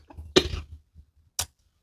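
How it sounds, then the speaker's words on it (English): A person coughs after egg went down the wrong pipe: one sharp, close cough followed by a second brief cough about a second later, with a quiet room otherwise. "The coughing helps me to get it out of the air, out of your the tube that leads to your lungs."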